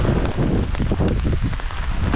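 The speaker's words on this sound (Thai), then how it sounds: "ฝนตกครับผม" Steady rain falls at a lakeside campsite, a dense, continuous wash of drops filling the whole stretch at close range with no voices over it.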